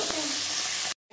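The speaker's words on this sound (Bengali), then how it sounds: "ভাজা বসিয়ে দিয়েছি" Food sizzles steadily in a pan in a village home kitchen, a close, continuous hiss lasting about a second before it cuts off abruptly.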